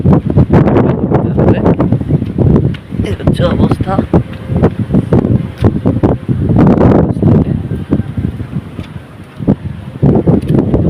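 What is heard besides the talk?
strong wind on the Bay of Bengal coast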